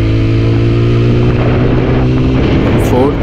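A 2024 TVS Apache RTR 160 4V dual-ABS motorcycle accelerating through its gears, a loud, close engine drone that holds steady, then rises in pitch near the end, with wind rumble over it.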